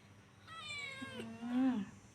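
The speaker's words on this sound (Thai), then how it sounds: "น้องเป็นแมว แมวจรข้างบ้าน" A stray cat from next door gives one drawn-out meow that rises and then falls, clear and close, with no other sound around it.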